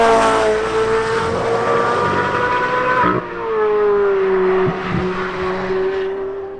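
A Mercedes-AMG GT R sports car drives hard, its engine producing a loud sustained drone with rising and falling revs and a brief gear-change dip in the middle.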